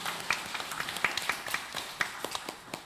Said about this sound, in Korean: 할렐루야, 박수